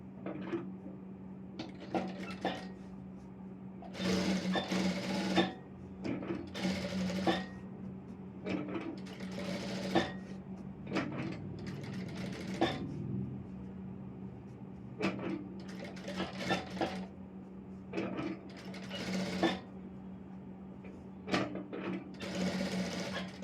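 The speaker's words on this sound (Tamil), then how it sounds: "இப்போ இங்கே ஓரமாக தையல் போட்டுக்கிறேன்" A sewing machine runs in repeated bursts of fast rhythmic stitching along the edge of an Aari work blouse, each run stopping briefly before starting again. The motor is close and clear, with no speech.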